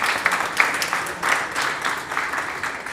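An audience at a ceremony applauds with dense, continuous clapping close by that swells in waves and holds steady for a few seconds.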